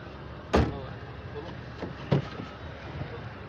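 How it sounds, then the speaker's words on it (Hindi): A 2011 Honda Civic door being opened at an outdoor car bazaar in Karachi gives two dull thumps over steady background noise. "गेट खोलें इसका।"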